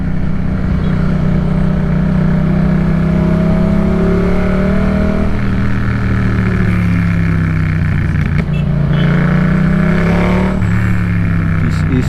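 A Yamaha MT-07 motorcycle rides through congested Cebu City traffic, its engine droning steadily and loud throughout, with rising and falling pitch sweeps as it accelerates and eases off amid surrounding road noise.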